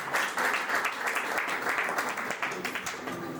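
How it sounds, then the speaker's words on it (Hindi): Audience applause at a school annual function in Rohtak, dense steady clapping from a crowd that holds at an even level throughout, with some background voices mixed in. "एक बार टीचर्स के लिए और बच्चों के लिए जोरदार तालियां होनी चाहिए।"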